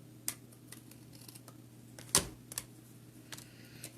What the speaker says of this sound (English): we have that little bit left over, so I'm just going to trim that off